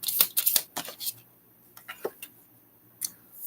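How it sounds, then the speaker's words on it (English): A large tarot card deck is shuffled by hand, giving a quick cluster of crisp riffling flicks and slaps, then a few scattered card taps after a pause, close and fairly quiet with no talking. "this is a big deck, so I have a hard time shuffling."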